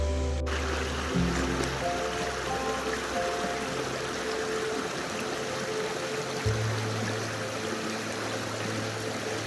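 Finney Creek running steadily along an old logging road, a continuous broadband rush of flowing water that stays even and fairly close throughout, with no voices.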